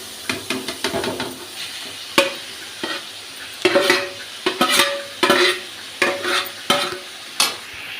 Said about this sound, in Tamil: இந்த மாதிரி நல்லா கிளறி விட்டுக்கோங்க